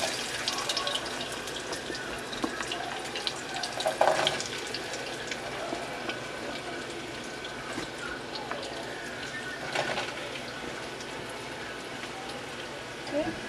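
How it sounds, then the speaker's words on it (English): A handful of potatoes drops into hot oil in a pot, giving a steady close sizzle with scattered crackles and pops as a voice talks over it. "take a handful, and you want to be careful because the oil is hot, and I'm just going to drop it into the pot."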